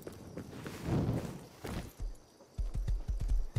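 A horse's hooves clip-clop in the survival video game Rust, a quick, steady run of soft thuds near the end after a stretch of muffled ambient rumble.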